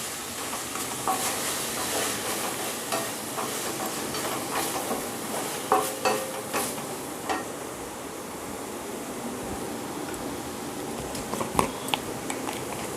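Chopped tomato, green chilli and curry leaves sizzle in a hot pan with a steady hiss, while a spoon stirs and scrapes with intermittent clicks and knocks; close and fairly loud, without speech.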